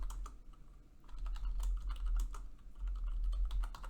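Rapid, uneven typing on a computer keyboard, with dense clusters of close keystrokes, short pauses between bursts and a steady low hum underneath.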